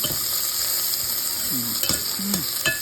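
Aromatics sauté in a pan for chicken tinola, a steady close sizzle of frying with a few stirring scrapes and clinks of a utensil against the pan.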